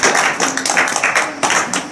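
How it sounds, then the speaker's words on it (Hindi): An audience at a village Ambedkar Jayanti gathering claps for a woman, a burst of quick, uneven hand claps from a small group close by. "चलो ताली बजाओ बहन जी के।"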